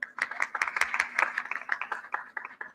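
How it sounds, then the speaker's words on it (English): Audience clapping for leaders on stage at a conference breakout session, a modest scattering of individual hand claps with an uneven rhythm, fairly close and moderately loud, continuing steadily. "Can we have a massive round of applause for all these amazing leaders that we have on stage today?"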